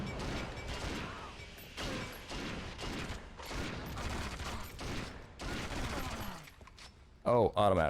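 Automatic weapon fire from the video game Agent Under Fire, heard as dense bursts of rapid shots and mechanical clatter that recur across the clip, briefly cutting out and returning loudly near the end.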